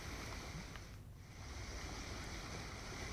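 Steady rushing water of a river flowing again after monsoon rain in North Gujarat, a continuous broadband wash that stays even and fairly loud throughout with no voices.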